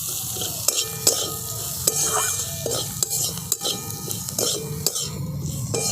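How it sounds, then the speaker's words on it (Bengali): Vegetables with spices are stirred and fried in a pan: a spoon scrapes and knocks against the metal in repeated strokes over a steady sizzle, close and clear with no talking. "সমস্ত মশলাগুলো আমি এই সবজিগুলোর সঙ্গে ভালো করে মিশিয়ে নিচ্ছি।"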